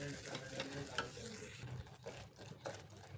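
Banana slices sautéing in a pan for semolina sheera, a quiet steady sizzle with soft scraping stirs now and then.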